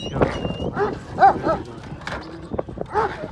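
A Kangal dog barks several times in short, sharp bursts nearby, with people talking around it.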